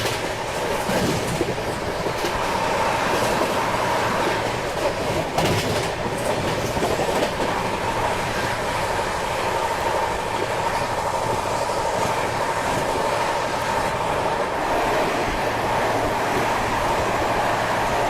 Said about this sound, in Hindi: Overtaking Telangana Express.